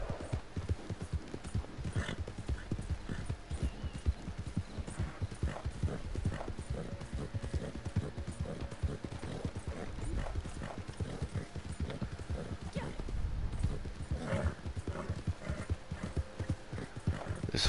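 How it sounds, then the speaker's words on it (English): Steady clip-clop of a horse's hooves at a brisk gait in the video game Red Dead Online, with a whinny and soft rustling, moderately close and continuous, no talk. "This horse drives me nuts."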